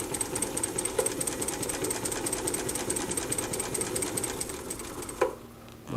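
Juki 563 industrial walking foot sewing machine stitching through layers of leather at a quicker pace, a fast, steady mechanical chatter with rapid repeating needle strokes and a brief knock near the end before it stops.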